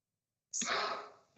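A single sharp human sneeze in a school board meeting room, sudden and close, trailing off into a breathy exhale.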